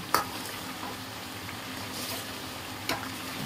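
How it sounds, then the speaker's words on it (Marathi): Red colour being stirred into Schezwan chutney in a pan: a steady soft sizzle with a few faint clinks and scrapes of the spoon, near and continuous. "मिक्स करून घ्यायचे आहे कलर"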